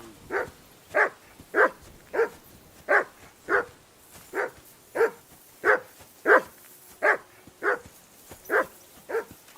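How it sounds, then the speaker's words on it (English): A dog in the video game Kingdom Come: Deliverance 2 barks steadily and rhythmically, about fifteen evenly spaced barks at moderate distance, with no talking over them. "I assume you can hear that damn dog of yours barking."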